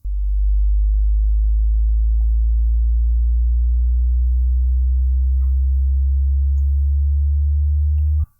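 A very low sine-wave sub bass from an FL Studio 3x Osc synth, a loud, smooth, steady hum that slides upward from G3 to G4 and then cuts off sharply at the end.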